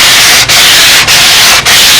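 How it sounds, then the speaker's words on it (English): Sandpaper held by hand rubs along the leading edge of a Windy Typhoon model airplane wing. Close, loud, steady scratchy strokes are broken by three brief pauses, about half a second apart, with no talking. "That leading edge I have to do strictly with sandpaper in my hand."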